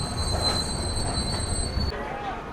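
The Telangana Express pulls into Virangana Lakshmibai Jhansi Junction with a thin, high steady wheel squeal over a low rumble of rolling rail cars; the squeal cuts off near the end.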